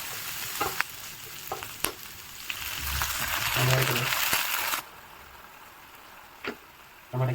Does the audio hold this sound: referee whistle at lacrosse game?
no